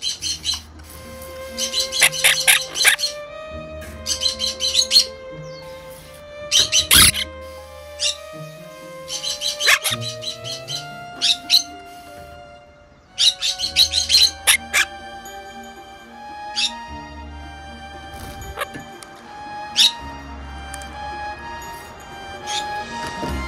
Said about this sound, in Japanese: 笑いは沖縄インコが自然に発する音ではなく、人間を喜ばせる方法を学ぶ音と理解してください。